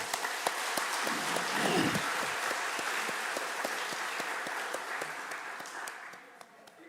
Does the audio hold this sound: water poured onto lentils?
no